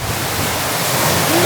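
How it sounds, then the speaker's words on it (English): Open-sea waves surge against a sailboat in worsening, colder weather, giving a loud, continuous broadband roar of rushing water and spray that swells slightly toward the end, with no voices. "The waves are getting worse and worse"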